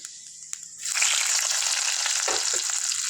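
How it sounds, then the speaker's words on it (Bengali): Five-spice tempering hits hot oil for an okra curry, bursting into a loud, steady sizzle after a short quiet start, with a few faint pops and crackles near the end. "ভেন্ডির ঝালের জন্য 5 ফোড়ন দিলাম"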